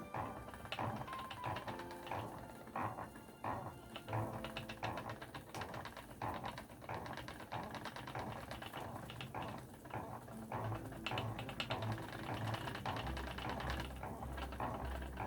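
A spinning wheel spins textured core-spun yarn, making a continuous dense mechanical whir and rattle with a rapid clicking rhythm that holds at fairly even loudness throughout, with no talking.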